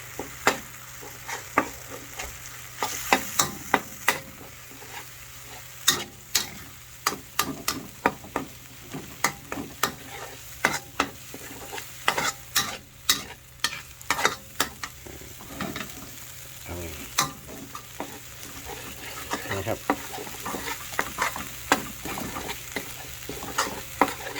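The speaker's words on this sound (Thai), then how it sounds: "ผัดให้มันหอมนะครับ" Panang curry paste stir-fried in a pan, with dense rapid spatula scrapes and taps against the metal over a faint sizzle, close and continuous, without speech.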